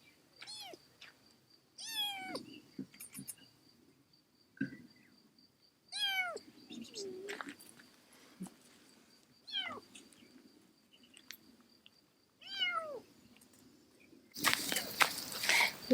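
A kitten in the woods gives repeated high, plaintive meows, about eight separate calls spaced a second or two apart, clear and fairly near against quiet forest background.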